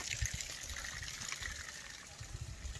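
Faint trickling water running beside a muddy village path in Galma, Mandi, a quiet continuous flow with soft low thumps.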